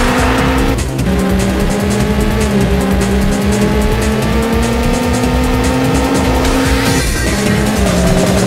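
Race car engines in the PS1 racing game Rage Racer, a loud continuous engine drone with steady rising pitch, a gear-change dip near the start and another late on, with tire squeal over the top.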